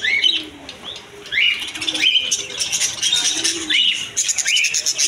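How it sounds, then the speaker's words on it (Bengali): Cockatiels and budgerigars at a bird market chirp and screech in a quick, repeated series of sharp calls, some overlapping, close and fairly loud, with no talk. "এদিকে পেয়ে যাবেন লটিনো ককাটিল পাখি, আর এদিকে পেয়ে যাবেন অসংখ্য বাজরিকা পাখির নতুন কালেকশন।"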